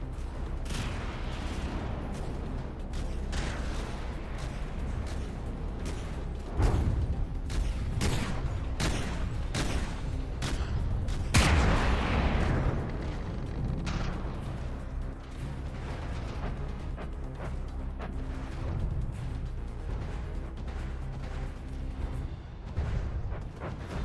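Naval gun batteries in From the Depths fire a long, loud fusillade, with heavy booming shots coming in rapid irregular clusters over a rumbling battle backdrop.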